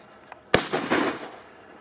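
A single old firecracker bangs with a sharp crack, followed by a rumbling, crackling echo that fades out over about a second.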